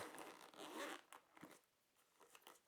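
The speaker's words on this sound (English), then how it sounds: "the slider right around its zipper, and let's lift up and open the case cover" A zipper slider runs around the soft case of a Bob & Brad Q2 mini massage gun, giving a quick rasping zip near the start and then a few faint handling rustles, close and quiet with no talking.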